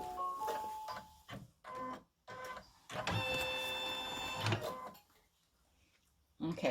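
An in-the-hoop embroidery machine stitches a seam line on a fabric mug rug, giving a steady mechanical whirring in bursts with brief pauses, close and fairly quiet.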